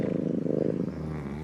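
A low, steady rumbling purr from a cat being stroked, close and continuous with a soft rhythmic pulse, heard alone.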